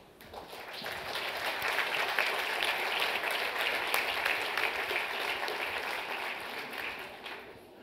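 A conference audience at the Atlantic Dialogues 2013 claps to welcome a speaker to the stage: dense, even applause swells quickly, holds for several seconds and then tapers slightly, heard alone at a moderate distance.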